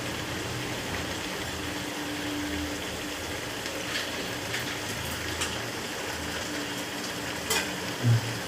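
Tomato, ginger and garlic paste stirred into spinach gravy in a frying pan, a steady sizzle and hiss with scraping stir strokes and a few sharper clinks near the end, close and continuous.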